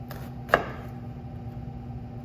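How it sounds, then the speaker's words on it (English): A single sharp knife chop through an onion on a cutting board, one crisp close thud standing alone against a low steady background hum. "I'm going to make my cuts as wide as I want my dices"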